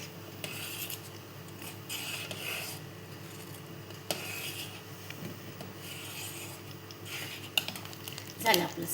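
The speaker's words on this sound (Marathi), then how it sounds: "उकळी यायला नको म्हणून ढवळायचं." A spoon scrapes and stirs inside a pot of mango saar made from Alibag Hapus mangoes, giving intermittent close rubbing and metallic clinks that grow busier near the end.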